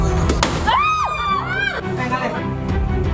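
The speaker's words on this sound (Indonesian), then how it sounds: "memperlihatkan detik-detik mobil terbakar dan terdengar ledakan" A car burning on a roadside after an engine fault lets out sharp popping bursts near the start, amid shouting and excited voices of onlookers and a rising, wailing tone.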